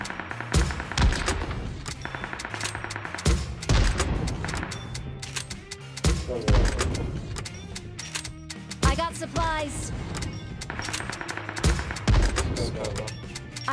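Rapid bursts of gunfire from the mobile battle royale game PUBG Mobile, heavy-weapons mode, repeated volleys and thuds mixed with game music and effects, loud and dense throughout.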